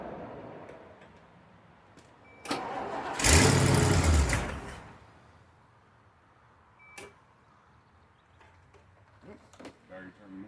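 A 1975 Bricklin SV-1 engine, once stuck and now run for the first time this year, gives a brief loud cranking roar that fades after about a second. Scattered clicks and ticks follow in a quiet garage.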